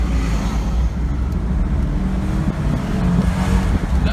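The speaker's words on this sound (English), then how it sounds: "That V8 roar though" V8 car engine rumbling and roaring under acceleration on a road among traffic, a loud, deep, continuous low growl with wind buffeting the microphone throughout.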